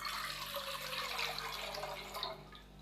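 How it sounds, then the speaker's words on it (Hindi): Four cups of room-temperature water pour steadily into a cooking pot for Kashmiri pink tea, a close, continuous splashing rush that fades slightly toward the end. "एक पतीली के अंदर हमने 4 कप पानी शामिल कर देना है"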